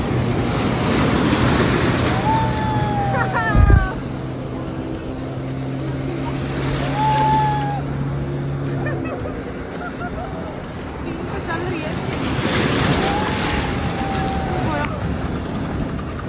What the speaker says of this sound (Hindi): आगे देखो बनाना राइड में हमारे साथ क्या हुआ।